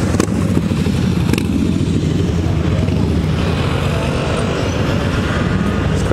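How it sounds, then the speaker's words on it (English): Steady city street traffic near the Arc de Triomphe in Paris, a continuous close roar of cars, motorcycles and buses with engine rumble and clatter running unbroken throughout. "Look at the traffic."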